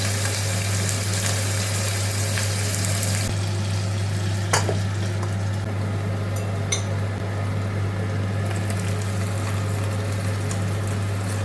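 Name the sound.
beef shank searing in a pan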